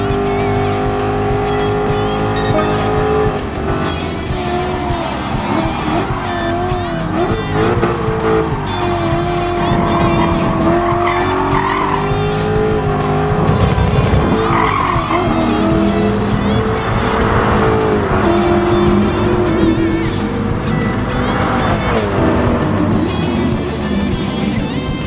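BMW Z8 roadster with a front-mounted V8 from the M5, driven in the racing game Gran Turismo Sport, its engine droning loudly and steadily throughout with tire squeal and no speech.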